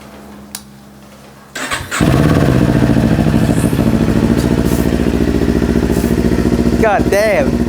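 A Kawasaki Ninja 400 motorcycle fitted with an Akrapovic slip-on exhaust cranks and fires up after a quiet start, then settles into a loud, close, steady idle with a faint higher whine near the end.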